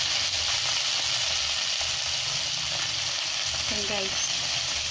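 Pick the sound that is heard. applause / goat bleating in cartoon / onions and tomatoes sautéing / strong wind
onions and tomatoes sautéing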